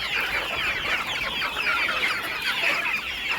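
A flock of five-month-old country chickens clucking on a desi poultry farm, a dense, continuous chorus of overlapping clucks, close and fairly loud throughout.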